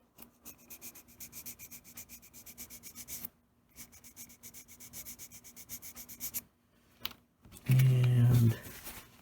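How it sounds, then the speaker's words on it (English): Wet sanding with 320 grit sandpaper on modeling putty filler, a steady close rhythmic rasping of rapid strokes that stops briefly twice, followed by a short louder rustle near the end. "Wet sanding."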